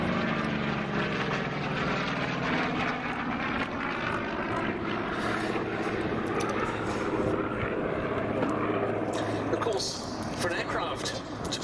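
A carrier-capable fighter with a 2,000-horsepower Pratt & Whitney R2800 Double Wasp engine roars steadily overhead at the 2022 Duxford air show. The loud, continuous engine drone lasts throughout, with a commentator talking over it.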